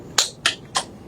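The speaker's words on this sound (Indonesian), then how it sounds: "Kita akan melakukan tepuk fokus." A teacher leads a classroom focus-clap icebreaker: three sharp, separate claps spaced evenly in a quick rhythm, close and clear with no talking.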